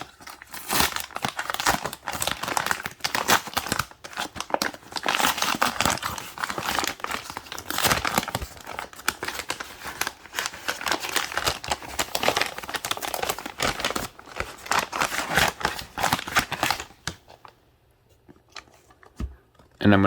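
A recyclable paper shipping bag is torn open and handled up close, loud continuous crinkling and crumpling with ripping bursts for most of the time, then near quiet at the end.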